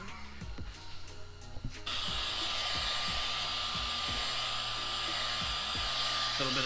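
Heat gun blowing hot air onto a Mercedes CLA45 AMG badge: after a quieter stretch of low hum and light clicks, a steady, broad airy roar switches on and continues evenly, fairly close.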